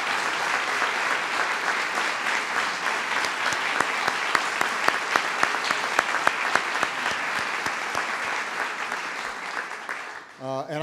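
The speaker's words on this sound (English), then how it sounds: "So please give them a big round of applause." Steady, loud applause fills a large audience at a Broadway event in the White House, with dense clapping and distinct sharp claps standing out, continuing throughout before fading out at the end.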